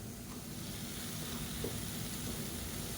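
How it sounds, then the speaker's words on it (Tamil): Chopped tomato sautéing in a pan for cauliflower peas rice, a steady dense sizzle with faint stirring scrapes, close and continuous, with no voices. "தக்காளி நல்லா மசிஞ்சு வர அளவுக்கு வதக்கிக்கலாம்"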